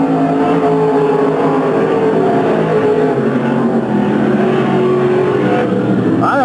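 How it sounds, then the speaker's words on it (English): Race cars circle a track during a qualifying event, and several engines blend into a continuous loud drone with shifting pitch as the cars pass. "Conrad Baker gets a wheel up now on the inside of the 17 car of Scotty Harris."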